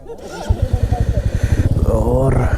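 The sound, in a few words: motorcycle with noisy chain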